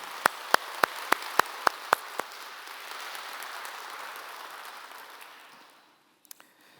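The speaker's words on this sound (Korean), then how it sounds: "우리 유다지파 오늘 귀한 찬양해 주는데 박수 한번 좀 감사할까요?" A church congregation gives the choir a short round of applause: a handful of sharp, evenly spaced claps stand out over a soft, rain-like wash of clapping that fades away, followed by a couple of faint stray claps.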